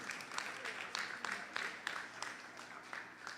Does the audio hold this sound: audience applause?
yes